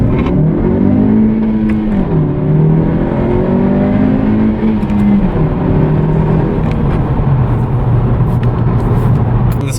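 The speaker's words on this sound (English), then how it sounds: "First gear pull." Turbocharged Honda coupe accelerating hard through first gear, the engine note climbing steadily with a brief dip around two seconds before rising again, loud and close from inside the car, with no talk.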